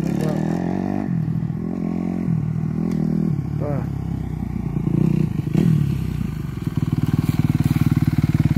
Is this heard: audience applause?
no